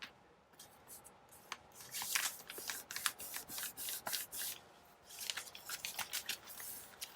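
Scissors snip and trim paper in a series of close, crisp cuts with short rustles of handling between them, fairly quiet and with no voices.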